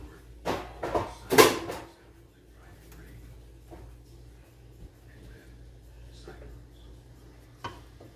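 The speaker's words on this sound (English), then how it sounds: "let me throw these cans away" Empty cans being tossed away in a home kitchen while meatballs and spaghetti sauce are cooking: a few quick metallic clatters and knocks at the start, then a low steady background hum with only faint scattered clicks.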